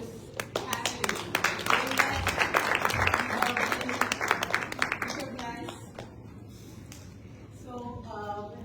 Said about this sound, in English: let's give a round of applause for our previous panelists